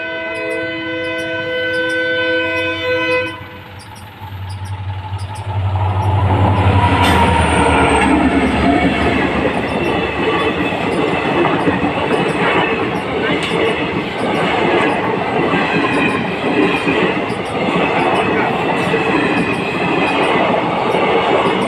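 A train passes close on a railway line at a level crossing near a market, a loud horn blast followed by a long, heavy rumble and rhythmic clatter of wagons, with voices faintly in the mix.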